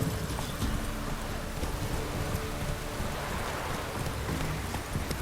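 Steady heavy rain pouring down in the video game The Witcher 3: Wild Hunt, a dense continuous hiss with low rumbling underneath, no voices.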